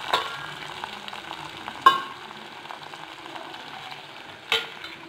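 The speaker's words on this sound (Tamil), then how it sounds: "இது பொரிஞ்சதையும் ஒரு மூணு காஞ்ச மிளகாயை போட்டு தாளிச்சிருவோம்." Mustard seeds, cumin, urad dal and three dried red chillies sizzle softly in hot oil for a South Indian spinach kootu tempering, with a steady crackle and two sharper pops or stirring clanks, close by.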